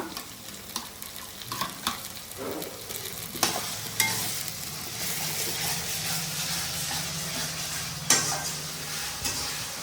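Ginger garlic paste frying with already-browned onions for a spicy chicken roast: a moderate, steady sizzle and hiss under intermittent scrapes and knocks of a spoon against the pan, close up, with no talking.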